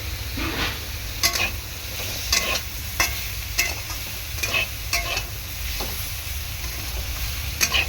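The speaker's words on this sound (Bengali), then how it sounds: "আলু ভালোই কষানো হয়েছে তেলের মধ্যে" Potatoes frying in oil with ground cumin and coriander, a loud continuous sizzle broken by regular scraping stirs of a spatula against the pan.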